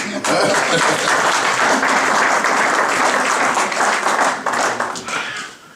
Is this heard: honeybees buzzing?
no